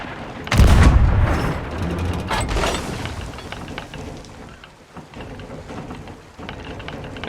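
Heavy booming blasts of video game cannon fire roll out, the first loud and close, followed by rumbling echoes and lighter crackling.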